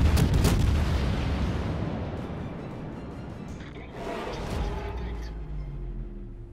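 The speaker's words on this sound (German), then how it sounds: "die ersten Schüsse sind raus Richtung Kutuzov" Heavy naval gun salvo from a warship in World of Warships, a deep booming blast that rolls off into a long rumbling decay, followed by a second softer thud, with someone talking over it.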